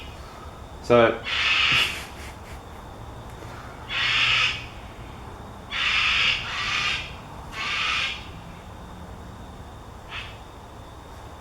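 Birds squawking nearby, several harsh, raspy calls in separate bursts of about a second each, loud and close, with someone speaking briefly between them.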